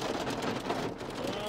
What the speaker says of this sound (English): and now it's hailing